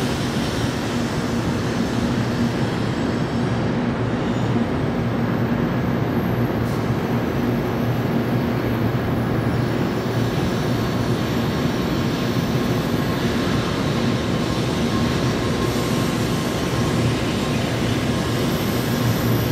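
A Mizuho 602 Shinkansen bullet train pulls into Kumamoto Station, a steady, loud rumbling roar of wheels and motors with a sustained hum, no voices heard over the noise.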